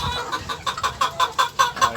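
Young Sebright bantam stag chickens cluck in a quick series of short, clear calls, about ten in two seconds, close by with no talking.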